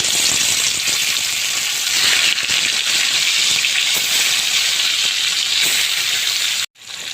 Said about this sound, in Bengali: আমার কই মাছগুলো ভাজা হয়ে গেছে